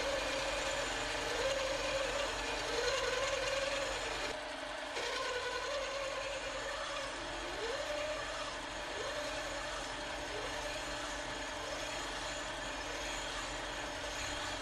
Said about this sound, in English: Because the stainless steel is so hard, you want to run the lathe at slower speeds when cutting it with the hacksaw.